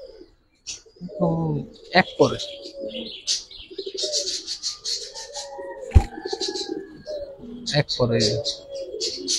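Pigeons coo softly with some chirps nearby, including a young pigeon, while someone talks over them, plus a sharp knock partway through.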